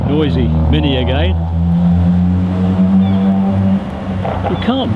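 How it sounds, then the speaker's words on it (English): A noisy Mini car drives past on a busy town street, its loud, steady engine drone holding throughout with a voice talking over it. "There's that noisy Mini again."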